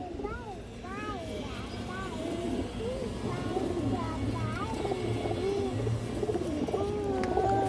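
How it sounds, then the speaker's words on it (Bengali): Several pigeons of fancy breeds cooing repeatedly at close range, with soft overlapping rising-and-falling coos over a low background rumble, while someone talks now and then. "এই দেখেন ছোট মনির কবুতর"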